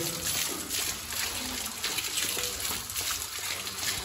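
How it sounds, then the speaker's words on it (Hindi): A household tap runs with a steady gushing stream of water, constant and fairly soft from start to finish, with no talking. "नल को चालू कर दे रहा हूँ"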